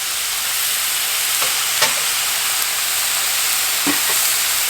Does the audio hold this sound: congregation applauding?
no